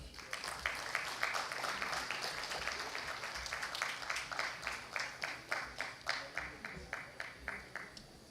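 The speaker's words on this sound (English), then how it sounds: "A big round of applause." Applause at the CHEMCON-2024 international conference award ceremony: a faint, steady round of clapping that tapers into distinct rhythmic claps near the end.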